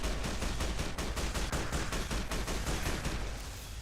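A plasma rifle in Fallout: New Vegas fires a rapid, evenly spaced stream of loud energy shots for several seconds, easing off slightly at the end.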